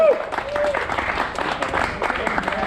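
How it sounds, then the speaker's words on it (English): A crowd claps and cheers for RC drag racers after the finals, a short burst of applause mixed with voices talking over it. "Round of applause for these guys."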